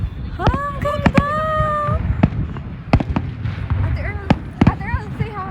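Victoria Day fireworks burst in a series of sharp booms and crackling pops, some followed by whistling rising tones, spaced irregularly at a moderate distance while excited voices talk and exclaim throughout.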